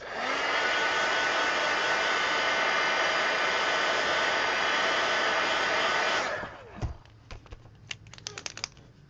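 A hair dryer blows loud and steady over a painted coloring book page for about six seconds, then shuts off and winds down, leaving light clicks and handling noises.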